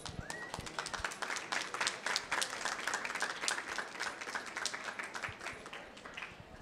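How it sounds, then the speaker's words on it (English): Crowd applause from an audience at a New York City Fashion Week designer press event in September 2013, a steady wash of many hands clapping throughout, fairly distant and diffuse with no talk over it. "Let's go ahead and give them another round of applause."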